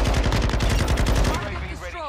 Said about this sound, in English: LMG is slow as all hell, man.